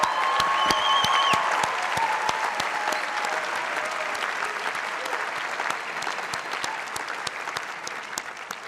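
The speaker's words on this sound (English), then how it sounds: "I want you all to join me in a big round of applause for all of today's graduates." Sustained crowd applause for graduates at an undergraduate commencement ceremony, dense and steady throughout with a few sharp louder claps near the start and some faint whistles early on.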